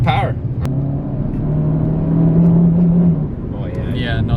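A Saab 9-5 engine revs hard toward the top of its redline, a sustained rising drone that holds then stutters as if hitting boost or fuel cut, loud from inside the car with people talking over it.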